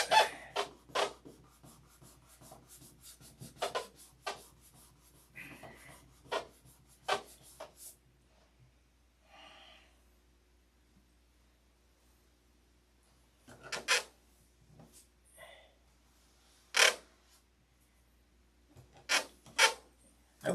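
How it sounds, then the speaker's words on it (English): Scattered bursts of rubbing and rasping against a surface while working at a spot, each brisk scrub separated by quiet pauses, with faint muffled speech in places. "See a spot, rub a spot."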